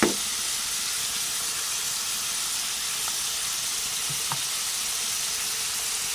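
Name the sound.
beef tapa steak frying in a pan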